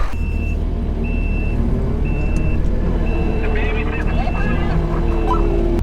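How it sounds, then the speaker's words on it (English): Heavy John Deere machinery working across the road, a steady engine rumble with repeated reversing beeps from a distance, with a voice talking over it. "there's an angry John Deere across the road"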